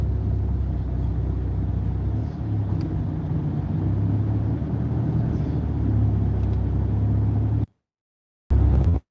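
A car creeping along in stop-and-go expressway traffic, a steady low engine and road rumble from inside the cabin, close and even, cutting out briefly near the end.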